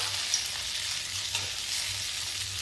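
Dhuska batter fries in hot oil in a kadhai, Jharkhand street-food style, giving a steady, even sizzle with a faint crackle, close and constant throughout.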